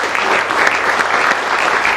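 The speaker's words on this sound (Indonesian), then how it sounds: "teman-teman dari Swins, tepuk tangannya boleh." Studio audience applause fills the room at a talk show, a dense steady wash of clapping for two seconds with no voices over it.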